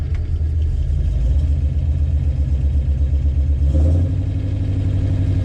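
A 1968 AMC Javelin with a 343 Typhoon V8 and a failing starter fires up and settles into a deep, close, rumbling run, with a brief surge in the engine note near the end.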